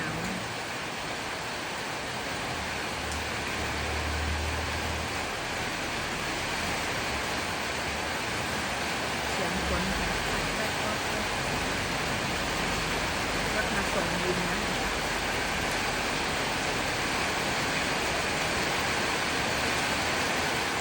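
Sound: heavy rain growing stronger

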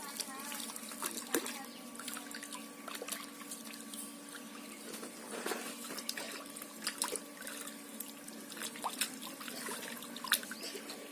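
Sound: dissolving cow dung in water

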